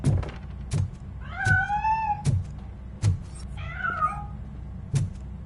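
A cat meows twice in drawn-out, wavering cries, with a few sharp knocks or thumps scattered throughout the clip.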